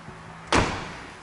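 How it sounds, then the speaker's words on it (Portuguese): A Peugeot 308 car door shut once, a single solid thud with a short muffled rattle after it, close by and following a quiet lead-in. "Podemos fechar a porta."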